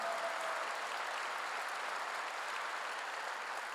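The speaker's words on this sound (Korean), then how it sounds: "정말 믿는 사람만 뜨겁게 박수 한번 쳐요" A church congregation applauds warmly in a sustained, even patter of many hands clapping, steady and moderately distant, fading slightly toward the end.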